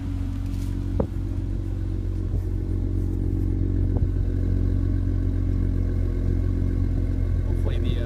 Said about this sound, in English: Exhaust has a nice rumble to it.